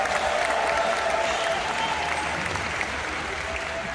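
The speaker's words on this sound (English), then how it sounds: "How about a round of applause for our volunteers?" An audience at an aquarium show applauds volunteers with steady, dense clapping that stays loud and close throughout, with no talk over it.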